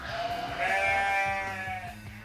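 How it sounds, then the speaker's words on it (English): A sheep bleats once, a loud, drawn-out, wavering baa lasting about two seconds, close and alone against a low farmyard background. "Did you hear a baaing noise? Can you guess what kind of animal baas like that? That's right, a sheep."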